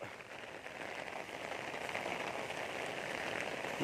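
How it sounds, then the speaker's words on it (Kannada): Steady rain falls on a road during a village festival, a continuous hiss of drops on surfaces with no voices. "ನೋಡಿ ನಮ್ಮೂರು ಮಳೆ"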